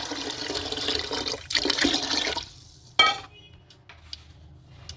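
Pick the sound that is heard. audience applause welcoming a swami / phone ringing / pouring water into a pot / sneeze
pouring water into a pot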